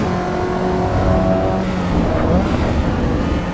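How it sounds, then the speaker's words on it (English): A Honda S2000 with aftermarket exhaust and induction drones steadily at high revs in Assetto Corsa EVO, its exhaust and intake roaring continuously with a slight rise and fall, loud and close. "so that's an exhaust and an induction."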